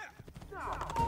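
Horse hooves clip-clop in the video game Assassin's Creed 2, a quick run of close taps that blends into a louder whinny-like cry, with someone speaking over it.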